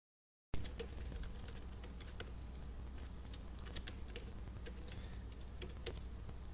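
An administrator username is typed on a computer keyboard while a Windows client is joined to a server domain: soft, quick, uneven key clicks patter steadily at a close, quiet level.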